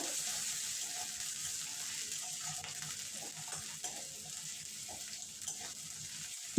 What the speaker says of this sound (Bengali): দিয়ে দেব আদা রসুন বাটা কিছুক্ষণ নাড়বো যাতে আদা রসুনের কাঁচা গন্ধ চলে যায়